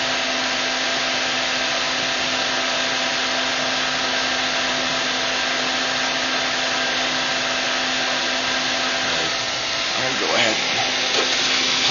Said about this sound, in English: Soon you'll hear the heater kick up a notch.